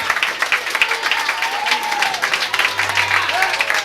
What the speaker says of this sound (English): you were clapping, you should have clapped harder